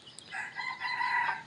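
A free-range rooster crows once, a drawn-out rising and falling call at moderate distance, with a faint hen cluck just before it and no talk.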